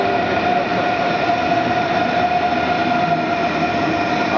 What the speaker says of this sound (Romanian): Ăsta e trenul din care intră în gara din Frankfurt.